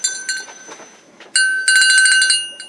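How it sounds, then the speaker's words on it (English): A small metal door chime bell is struck like a cowbell, bright ringing hits in quick clusters, loud and close, with a sharper burst of rapid strikes near the end. "Is that even a cowbell? I think this is a door chime."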